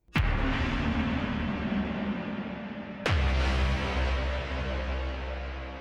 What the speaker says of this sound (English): It's deep and corrupted and bassy,